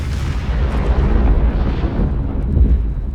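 A Masenko energy blast fires in a Dragon Ball video game: a loud, continuous rumbling boom like an explosion, holding steady for about three seconds with no talking.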